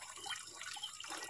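A strong stream from a household faucet runs into a sink in a farmhouse kitchen, a steady close splashing with shifting bubbly trickles and no speech.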